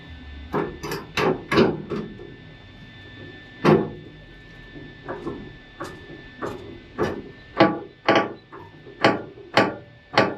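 The front of a Jeep Renegade being jacked up in a garage during a HEMI engine swap and frame install: a steady series of sharp, close clanks and knocks repeating roughly every half second, with no talking.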